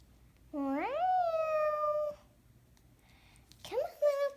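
A person's voice imitates a cat, giving two drawn-out rising meows with a pause between them, clear and close.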